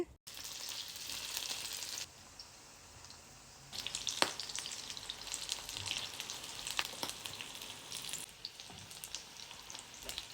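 Tuna lumpia shanghai fry in hot oil with a steady, soft crackling sizzle and a few sharper pops, heard alone and fairly faint throughout.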